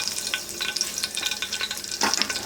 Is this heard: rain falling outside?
no